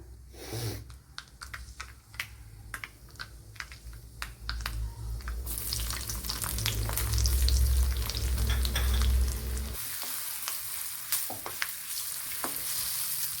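Shallots hit hot coconut oil in a pan and burst into a loud, steady sizzle after a stretch of quiet clicks, then settle into softer frying with light stirring taps.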